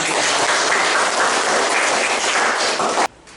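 A class of students applauds their teacher during a lesson, with dense, steady clapping at full volume that stops abruptly near the end, leaving quiet room sound.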